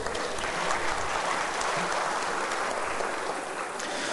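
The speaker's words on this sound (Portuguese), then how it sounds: "Uma salva de palmas a todos estes" Audience applause at a formal ceremony, a steady, even wash of many hands clapping, somewhat distant and soft, sustained throughout with no voices over it.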